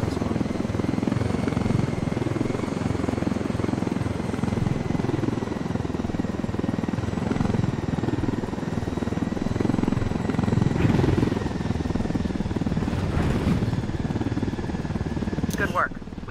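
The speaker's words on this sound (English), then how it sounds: "We can leave the chopper here and the rebels will pick it up." A helicopter in the video game Ghost Recon Wildlands flies steadily with a loud, continuous rotor and engine drone throughout, with faint voices and game sounds underneath.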